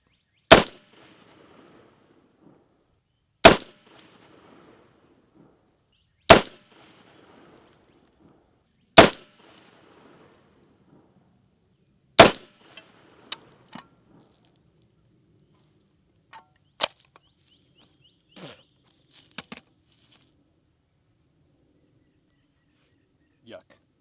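Five sharp, evenly spaced gunshots from a short-barreled .308 rifle ring out loud and isolated against quiet air, followed by fainter, scattered clicks and a few softer distant reports.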